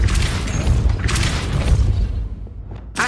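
Depulso spell cast in Hogwarts Legacy, a heavy booming blast with rumbling low impact and a rushing burst that fades, followed by a short sharp crack near the end.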